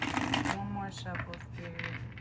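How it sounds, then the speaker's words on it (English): Tarot cards are shuffled in a quick riffling burst, followed by softer card handling beneath someone speaking. "one more shuffle,"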